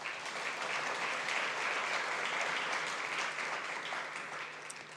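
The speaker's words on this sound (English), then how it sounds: "May we all give them a round of applause" An awards ceremony audience claps at a moderate, distant level in a continuous wash of applause that holds steady for about five seconds, with no talking over it.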